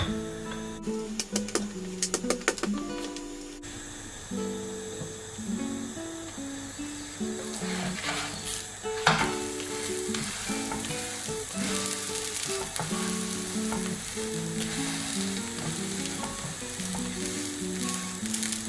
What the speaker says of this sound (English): To reduce the flame, don't want the paratha to burn.